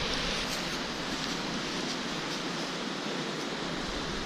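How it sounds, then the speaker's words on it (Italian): A waterfall outdoors, the second and smaller of two falls, roars as a dense, steady broadband rush that stays loud and unchanging throughout, with no voices. "Ecco la seconda cascata"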